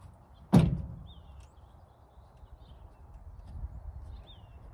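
Chevy pickup truck tailgate swung open outdoors, a single sharp metallic clunk followed by faint ambient rumble and distant birdsong.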